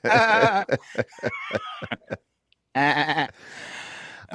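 Goat bleating loudly and close, a wavering cry at the start and another long bleat later, with breathy chuckling sounds in between.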